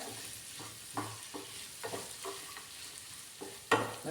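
A spoon scrapes and stirs through onion, raw mango and jaggery in a pan in a soft, irregular rhythm of clinks and scrapes over a faint low sizzle, close and quiet.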